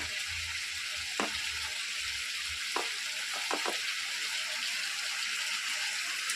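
Garlic sizzles as it hits a hot pan, a steady broadband frying hiss with a few brief clicks of a spoon against the pan, home kitchen setting.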